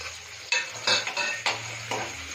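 Fish eggs stirred into onions in a frying pan, with about five distinct utensil scrapes and knocks over a soft sizzle.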